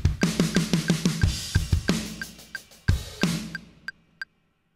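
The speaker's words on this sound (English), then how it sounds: "So first fill we'll do just the kick and the snares." Drum kit fill played on just kick and snare for a worship song: a rapid run of snare and kick hits with cymbal wash underneath, ending in a few sparse taps before silence.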